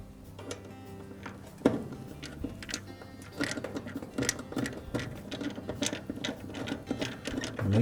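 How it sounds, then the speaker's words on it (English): A 5/16 screw being driven back into the idler arm of a Maytag dryer, rapid ratcheting clicks and metallic ticks at close range, growing busier toward the end, no talking. "Next, we'll reinstall that 5/16 screw."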